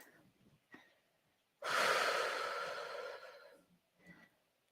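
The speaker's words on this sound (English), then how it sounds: "Some lovely yawns in the Zoom room." Several people on a video call let out long, loud yawns together, one big drawn-out exhale swelling and fading over a couple of seconds between a few softer breathy sounds, with no talking.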